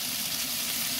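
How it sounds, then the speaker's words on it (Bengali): Pointed gourd and potato frying in a pan for a hilsa fish dish, a steady close hiss and sizzle throughout the short stretch, with no talking. "হ্যাঁ, পটলটা ভাজা হচ্ছে, আলুটাও ভাজা বা সিদ্ধ দিতে এগুলো হচ্ছে।"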